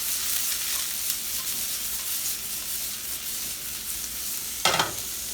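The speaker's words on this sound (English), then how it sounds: "Now I'll go in here and we'll saute this up real quick." Peppers, onions and garlic sauté in a pan with a steady close hiss of sizzling, broken by a brief scrape of stirring near the end.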